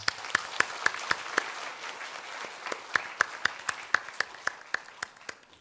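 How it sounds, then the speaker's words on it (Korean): A church congregation claps in unison, sharp distinct claps in a steady rhythm with a short lull in the middle, then resuming at a quicker pace before trailing off. "자, 우리 화이팅하는 의미에서 박수 한번 하겠습니다."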